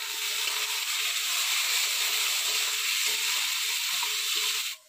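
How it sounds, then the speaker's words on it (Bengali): A heap of chopped onions frying in a pan for a village-style egg curry, giving a steady, close, continuous sizzle and hiss that runs unbroken for the whole stretch and stops abruptly at the end. "পেঁয়াজ ভাজাতে দেখো কত সুন্দর সেন্ট বাড়ায় গেছে।"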